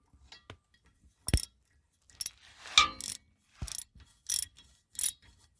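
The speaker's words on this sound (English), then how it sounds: "You want to tighten these clamps up." Driveshaft clamps being tightened after towing produce a series of sharp ratcheting clicks and metallic clinks in short separate bursts, close and fairly quiet, with near silence between them.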